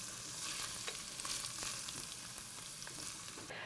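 Jalapeños sauté in a pan, making a soft, steady sizzle with faint crackles, fairly quiet and continuous, with no voices.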